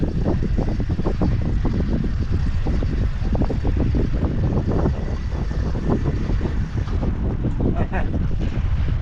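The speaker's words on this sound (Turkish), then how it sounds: "Ali Ağa Çağlar Kaplan'ın teknesindeyiz" A fishing boat at sea off the Turkish coast in December, its engine rumbling steadily under gusting wind buffeting the microphone, continuous and fairly loud throughout.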